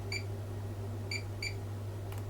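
Three short, high multimeter continuity beeps while probing a MacBook Air A2179 with no power after LCD replacement, over a steady low hum, with a fainter fourth blip near the end.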